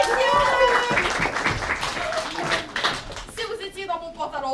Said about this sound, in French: On l'applaudit, messieurs!